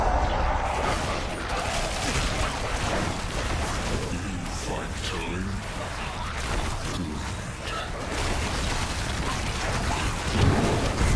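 Steady rain with rolling thunder in the Diablo 4 game soundscape, a broad continuous wash that holds through the whole stretch, with a faint low rumble swelling near the end.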